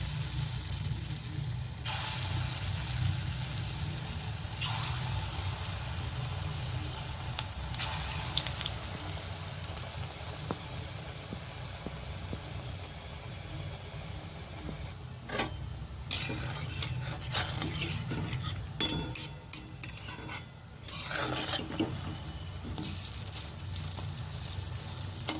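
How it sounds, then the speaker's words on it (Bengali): Moong dal fritters (pakoras) sizzle steadily in hot oil in a kadai, a continuous bubbling fry with sharper crackling bursts partway through. "এবার আমি পকোড়াগুলো ছাড়ছি।"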